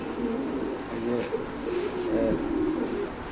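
A female long-distance racing pigeon held in hand cooing softly, a few low rolling coos close by with faint background voices.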